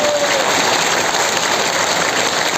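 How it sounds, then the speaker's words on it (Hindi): Seminar audience in Gurugram clapping hard together, a steady dense wash of applause filling the whole stretch at even loudness, with no talk over it. "दोनों हाथ ऊपर करके एक बार दिल खोल के ताली बजाइए।"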